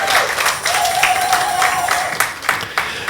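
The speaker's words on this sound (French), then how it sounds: "Est-ce qu'on peut juste applaudir le Seigneur?" Church congregation applauding during a Sunday service, a dense wash of clapping that swells and dips throughout, with a sustained tone running beneath it.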